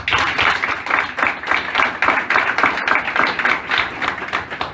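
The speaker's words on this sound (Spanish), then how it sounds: "para quien pido un gran aplauso" An audience at a mock oral commercial trial hearing applauds steadily, with rhythmic, fairly loud clapping from many hands that carries on for several seconds.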